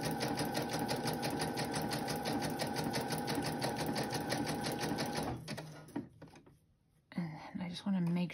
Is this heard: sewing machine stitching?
yes